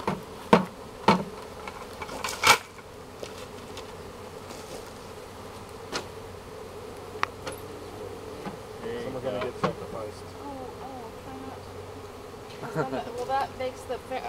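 Bees buzz around a hive in Martinez, California, a faint steady hum under scattered sharp clicks and knocks, with a few louder taps near the start and end.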